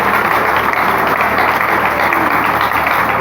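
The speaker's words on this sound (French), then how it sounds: "je demande d'acclamer fortement" Dense, steady applause and cheering from a large crowd at a Congolese political gathering acclaiming Vital Kamerhe, loud and continuous throughout with no pauses.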